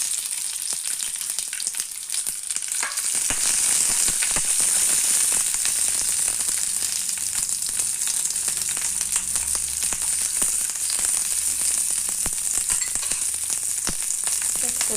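Green chillies frying in a pan of hot oil for a chutney, a steady close sizzle and crackle running throughout, with occasional stirring scrapes and no voices.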